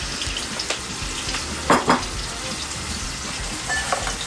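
Beef steak frying in a pan with a thyme sprig, a steady close sizzle that runs throughout, broken by a couple of brief louder clinks of utensils against the pan near the middle.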